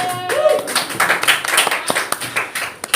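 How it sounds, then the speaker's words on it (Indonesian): A classroom group applauds for a student about to present, scattered claps starting after a brief voice, irregular and fairly close, with some talk mixed in. "tepuk tangan dulu untuk Buge."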